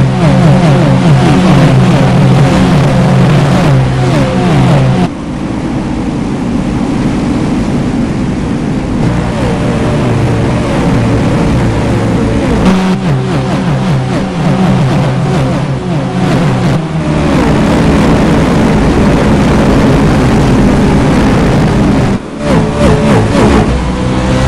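NASCAR iRacing.com Pro Series cars race at Phoenix International Raceway in iRacing: a loud, continuous drone of several engines with shifting pitch as they pass and rev, with short dips in the roar and no talk.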